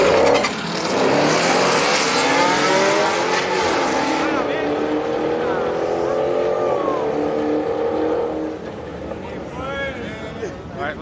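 A Dodge Hellcat and a Chevrolet Camaro street race on a Friday night street car event, heard as loud, sustained engine roars climbing through the gears with a tire squeal, then fading, with a voice talking over it.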